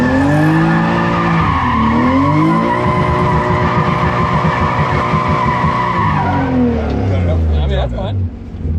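A Honda CRX with a B18 engine revs hard at full throttle, its loud engine note climbing and falling in repeated sweeps, with some tire squeal, before easing off near the end.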